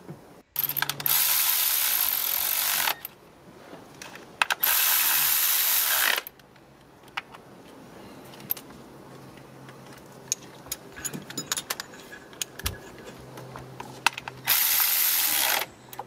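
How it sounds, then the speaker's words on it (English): A ratchet tightens the 10 millimeter ignition coil bolts on a 2009 Nissan Rogue, with several close, crisp bursts of rapid clicking separated by quieter pauses and no talking. "tightening the bolts over here, just making it sure all the bolts are tight."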